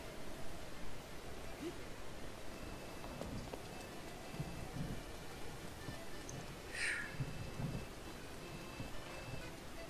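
Steady rain hisses throughout a thunderstorm in The Legend of Zelda: Breath of the Wild, with low rumbling and a few faint higher tones over the constant downpour.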